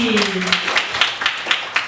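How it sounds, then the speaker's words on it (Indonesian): Students clapping in a classroom, a run of evenly spaced claps that starts while a voice is still speaking and continues alone. "Tepuk tangan untuk Dea, Anissa, dan Divari"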